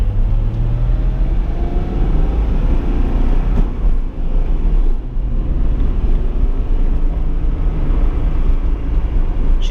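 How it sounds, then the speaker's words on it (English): A stock 1997 Acura NSX V6 with 43,000 original miles runs as a loud, steady, close engine drone with deep low rumble and wind noise, unbroken throughout, with no voices. "That V6, guys, I'll tell you what, this is one of the best sounding V6s out there."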